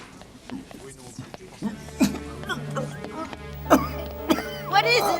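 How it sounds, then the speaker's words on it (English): A man coughing and choking in a TV drama scene, with harsh, spasmodic coughs and gasps scattered among agitated voices talking around him. "He's choking."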